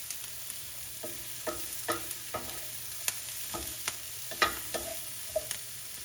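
Mushrooms cooking in butter in a pan for beef stroganoff, with a steady soft sizzle broken by about a dozen scraping stirs of a utensil, fairly quiet and close.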